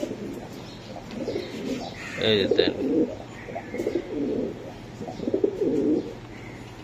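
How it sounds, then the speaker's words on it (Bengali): Large red checker pigeons, fancy and high-flying breeds kept in cages at a seller's, coo in repeated soft throaty bursts close by while people talk over them. "বিশাল সাইজের কবুতর"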